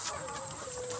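Chickens in a backyard farm pen cluck close by on a rainy afternoon, giving a short, lively burst of calls over a soft background.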